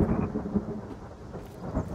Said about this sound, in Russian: Дождик начинается.